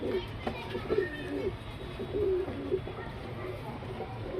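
A male and female pair of pigeons coo softly in low, repeated throaty calls against a quiet background, with faint voices murmuring nearby.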